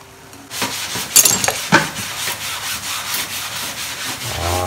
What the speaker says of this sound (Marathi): राहिलेली कोथिंबीर होती ती टाकत आहोत आणि जस्ट फिनिशिंगसाठी थोडंसे व्यवस्थित मिक्स करून घेणार आहोत